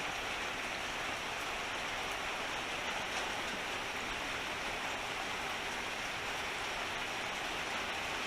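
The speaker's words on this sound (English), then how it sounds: "Love the rain." Steady rain pours down continuously, a dense even hiss of drops pattering on surfaces with no voices, loud and close throughout.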